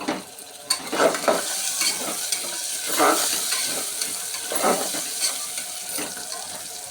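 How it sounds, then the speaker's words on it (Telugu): Chana dal frying in oil in a pan for a potato and chana dal curry, a crackling sizzle with repeated spatula stirs and scrapes coming in uneven bursts, close and moderately loud, with no talk. "శనగపప్పు వేద్దాం ఇది ఫ్రై అవ్వనివ్వాలి"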